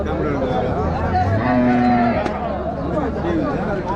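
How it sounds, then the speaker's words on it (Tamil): Native bull calves mooing at a busy Vaniyambadi cattle market ahead of Pongal, several long lowing calls overlapping close by against a steady background of crowd chatter and market noise. "நாட்டு கண்ணுக்குட்டிங்க தான், காளை கண்ணுக்குட்டிங்க"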